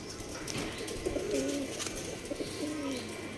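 Soft, low cooing from a female Rekdhar pigeon, a few throaty phrases close by over a busy background of traffic and ambient noise, with no talking.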